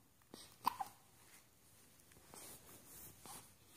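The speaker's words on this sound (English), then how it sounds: "You got the hiccups?" A one-week-old baby hiccuping, heard as faint, soft little catches spaced irregularly, quiet and close, with light rustling underneath and no talk.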